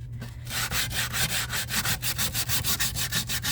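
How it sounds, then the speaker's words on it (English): A small hand sander works over an unfinished wood piece, giving close, steady rasping strokes in a quick, even rhythm over a constant low hum, with no voices. "my sander, my hand sander, the little bitty one"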